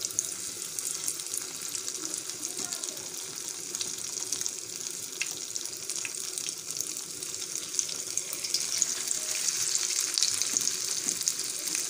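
Cauliflower pakora pieces fry in about a cup of hot oil, giving a steady, fairly loud bubbling sizzle that builds slightly over time, with no talking.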